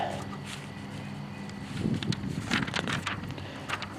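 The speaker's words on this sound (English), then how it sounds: "The wind actually turned that page for me this time." Outdoor wind buffets the microphone in a steady wash while a paper toy catalog page is flipped over, with a brief papery rustle in the middle.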